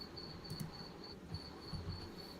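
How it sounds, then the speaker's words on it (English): Crickets chirp in a steady, thin, high trill that pauses briefly and resumes, faint and constant over a low background murmur. "Just listen to those crickets."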